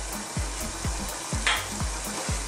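A spoon scrapes rhythmically around a pot of Filipino hototay chicken soup with shredded chicken, about eight even strokes close by, each a soft scraping swipe over a steady sizzling bubble, with no voices.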